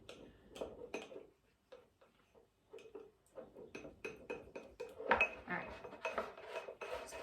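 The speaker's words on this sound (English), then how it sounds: "I'm just gonna stir that up." Cornstarch stirred into a peach mixture in a bowl: quiet, irregular clinks and taps of a utensil against the dish, scattered light knocks building toward the end, close and fairly faint.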